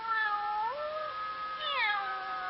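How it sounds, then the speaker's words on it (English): Kittens meowing in a house, two drawn-out, close cat meows with bending pitch, one early and one later, clear and alone. "the cute little kittens in his own house"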